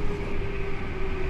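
Interior running sound of a Tokyo Metro 7000 series train with a Mitsubishi IGBT drive, a steady whining motor tone over constant rumbling wheel and track noise, loud and continuous.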